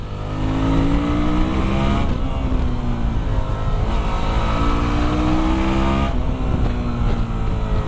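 2017 Suzuki V-Strom XT 650 motorcycle engine under way, a loud continuous drone that rises and drops through several gear changes, with wind rush throughout.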